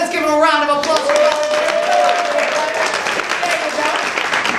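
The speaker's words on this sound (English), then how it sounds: "Let's give him a round of applause." Audience clapping at a magic show at Coney Island as a volunteer is called up, a steady burst of applause with voices talking over it.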